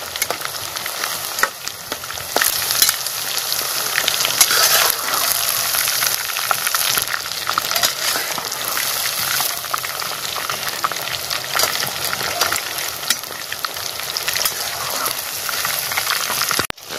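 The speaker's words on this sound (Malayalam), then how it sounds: "നല്ല ക്രിസ്പി ആണ് ഇത്, നന്നായിട്ടിത് ഫ്രൈ ആണ്" Chicken 65 deep-frying in hot oil with curry leaves, a loud and steady crackling sizzle that holds without a break for the whole stretch.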